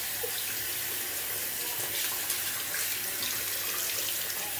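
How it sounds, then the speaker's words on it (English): Water is wrung out of a wet shaving brush by hand, giving a close, steady wet hiss and trickle that runs without a break and with no talking. "So I'm going to wring the brush out"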